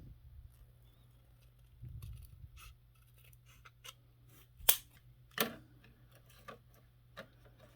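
Small clips and snips ring out as a part of a 3D-printed 1965 Studebaker prototype pickup truck model kit is trimmed, scattered sharp cuts and clicks over a quiet low hum, close and sparse.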